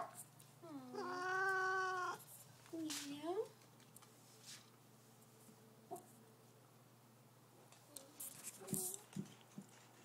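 A cat gives a long, drawn-out meow followed by a shorter one, fairly close, then quiet rustles and faint background talk.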